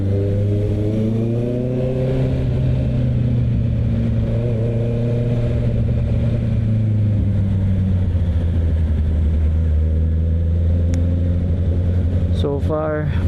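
A Honda CB650R motorcycle filtering through heavy Metro Manila rush-hour traffic gives a steady, close engine drone with a rich layered hum that stays level throughout, with a few sharp ticks near the end.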